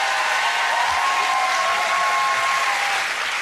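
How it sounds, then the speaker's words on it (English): A studio audience on a family game show applauding, a dense, loud, continuous wash of clapping that holds steady for the whole few seconds, with a faint tone running underneath. "Give them a big round of applause."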